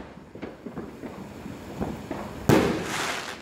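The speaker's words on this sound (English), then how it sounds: "I really love fireworks, don't you?" Loud fireworks burst at an Independence Day display, a sharp sudden blast followed by a sustained crackling roar, after a stretch of quieter distant pops and thumps.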